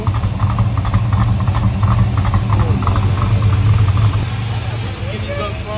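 A boosted Honda Civic engine idles nearby with a loud, steady low rumble and a faint mechanical whine running evenly throughout.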